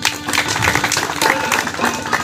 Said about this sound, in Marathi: आपण सर्वांनी टाळ्या वाजवून सत्कार करायचा आहे